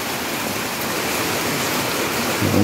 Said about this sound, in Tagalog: pasok na naman ng tubig. Yan. Pinasok na naman ng tubig.